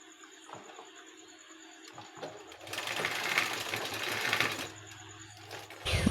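A sewing machine stitches the folded hem of a baby's half pant, starting with faint taps, then a loud, steady whirring run of about two seconds, and finally a fresh burst at the end.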